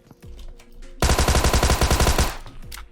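A Tommy Gun in the video game PUBG Mobile fires one sustained, rapid automatic burst of about a second and a half, loud and close, with quieter game sounds before and after.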